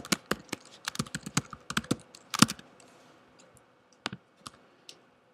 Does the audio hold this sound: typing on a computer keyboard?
yes